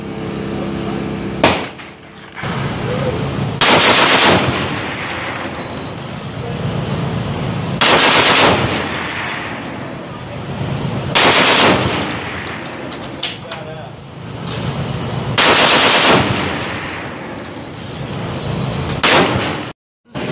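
Machine guns fire at an outdoor range during a machine gun shoot in Leona, Texas, with loud bursts roughly every three to four seconds over a steady din of distant gunfire and crowd noise.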